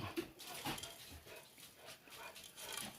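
Dogs whimper and give soft, faint yips and barks at a distance, scattered across a quiet, noisy background.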